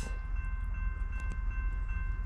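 A westbound CSX manifest freight train rumbles past on the CSAO Line in New Jersey, with a heavy steady low roar and a sustained horn-like tone close by.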